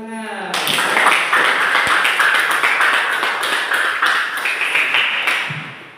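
A classroom of students claps together in a dense burst of applause that starts abruptly, holds steady for several seconds, then thins out toward the end.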